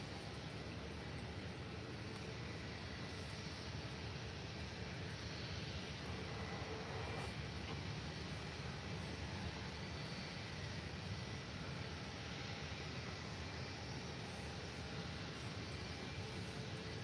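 An Air Transat airliner at Faro airport produces a steady, continuous jet roar, fairly distant and unbroken, with no voices.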